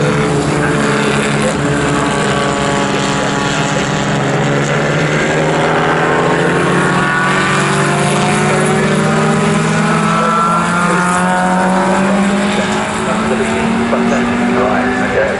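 Historic Formula Junior race cars passing at Silverstone, loud continuous engine whine with rising and falling pitch as several cars sweep by close, a commentator talking over the noise.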